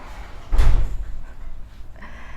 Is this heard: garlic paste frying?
no